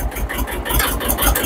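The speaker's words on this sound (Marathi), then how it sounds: "ट्रॅक्टर चालू करतो" Tractor engine on a farm, loud and close with a rough, pulsing low rumble as it starts and runs steadily.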